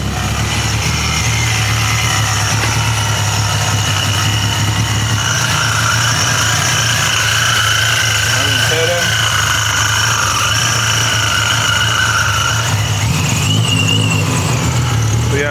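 Supercharged Nissan 370Z with a freshly swapped engine running, a steady loud idle with a whining, squealing tone on top and a voice speaking over it.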